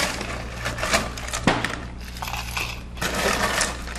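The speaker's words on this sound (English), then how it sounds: "So it's just some ice in the glass first." Ice cubes dropped into a glass for a drink at a home bar, giving a steady run of close clattering, clinking and crunching sounds, with a brief sharper knock partway through.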